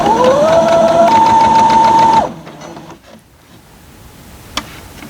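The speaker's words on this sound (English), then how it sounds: "And now I'm just sewing this." A sewing machine stitches a quilt block with nested seams, its motor whirring steadily and loudly for about two seconds before stopping, followed by quiet fabric handling and a small click.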